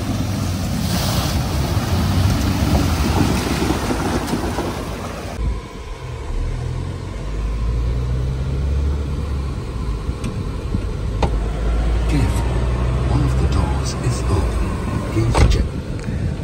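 A Mahindra Scorpio S11 SUV engine rumbles steadily during off-roading, with low droning revs and wind buffeting that shift midway, under a man's intermittent speech.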